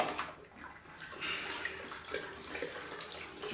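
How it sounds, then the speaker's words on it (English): A microfiber cloth is rinsed under running sink water: soft splashing and trickling, quiet and close, with no voices. "I have a cloth by the side of the sink that I rinse off between passes"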